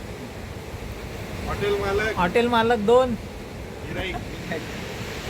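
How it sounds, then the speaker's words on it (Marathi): Waves washing onto a Konkan beach with a steady surf wash under wind noise, while a person speaks briefly over it mid-clip. "मस्त लाटांचा खळखळाट आवाज आणि रंगमय असं दृश्य."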